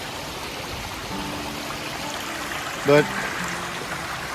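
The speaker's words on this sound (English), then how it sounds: "Silver Creek is looking pretty wimpy now." Small creek flowing on the Superior Hiking Trail, running low and thin, giving a steady soft trickle throughout with a brief louder splash near the end; a voice speaks briefly.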